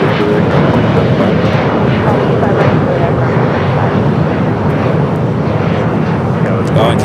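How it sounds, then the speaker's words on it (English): Korean Air Boeing 747-8 Intercontinental arriving at LAX, a loud, steady broadband engine roar that fills the whole stretch, with voices talking over it. "Korean Air Flight 17 coming up from Seoul. The 8-year-old 747-8 Intercontinental up next for arrival."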